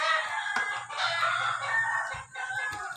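A rooster crows in drawn-out bursts nearby, loud and clear, with brief pauses between calls and short clucks breaking in, no talking heard.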